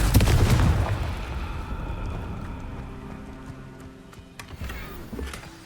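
Casting the Confringo fire spell in Hogwarts Legacy sets off a loud, booming blast at the start that rumbles and decays into a long crackling tail, with a smaller thump near the end.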